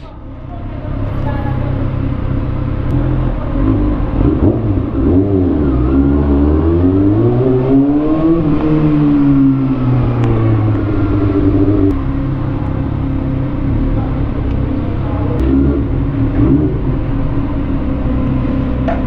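A car engine idles and rumbles steadily while being maneuvered into a parking space, with low tones rising and falling through repositioning, close and constant for the whole stretch.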